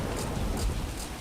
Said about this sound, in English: And of course, it's now raining.